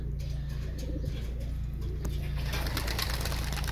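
Domestic pigeons coo in a low, repeated throbbing murmur from a loft in Milicz, steady and close throughout, with faint chirps above and no talking.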